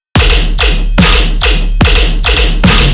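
Melodic dubstep bass with a repeating pulsing rhythm, loud and dense, with regular attacks roughly every half second across a full mix, no voices.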